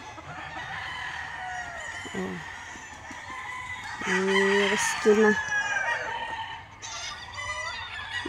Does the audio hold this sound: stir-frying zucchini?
no